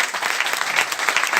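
An audience at an RCM business seminar claps in a dense, continuous burst of close, loud applause.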